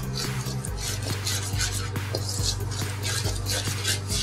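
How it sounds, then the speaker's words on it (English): A spoon stirs milk into dry ingredients in a bowl for dough, making a steady, close rhythm of wet scraping and repeated clinks against the bowl, with no talking. "we're now going to add our milk to it, okay? Just stir it up."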